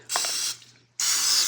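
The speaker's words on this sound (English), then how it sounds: "We need to grease the pan." Cooking spray greasing a baking pan for vintage lemon bars, two loud close hissing bursts, the first about half a second long, then a pause, then a second burst that runs to the end.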